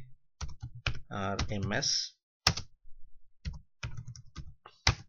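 Keys on a computer keyboard clack in short irregular bursts at close range, alternating with a man's speech and brief pauses.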